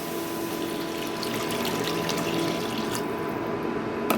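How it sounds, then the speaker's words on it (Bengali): Water pours steadily into a gravy for a vegetarian chhana kofta and cabbage curry, a continuous close splashing and trickling stream that keeps an even level throughout. "এখন আমি এর মধ্যে অ্যাড করে দিব গ্রেভির জন্য জল"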